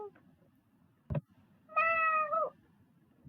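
A person imitates a cat's meow with a single drawn-out vocal meow, close and clear, following a brief knock or thump against quiet background noise.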